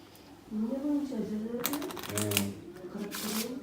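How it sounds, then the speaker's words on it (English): Piles of playing cards are shuffled at a table in Bishkek, a brief, dense burst of riffling clicks in the middle of the moment, with people talking before and around it. "Which two piles should I shuffle?"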